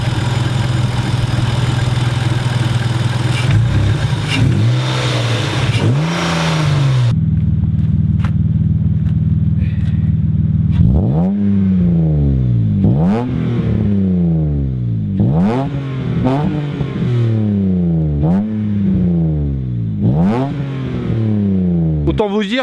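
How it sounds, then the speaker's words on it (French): The V6 engine and exhaust of a tuned Stage IV Hyundai Tuscani idle with a deep rumble, then rev repeatedly in sharp rising and falling blips, loud and close, about eight pulls in quick succession. "je vais vous faire écouter le bruit du moteur et le bruit de l'échappement pour que vous entendez ce doux bruit du V6"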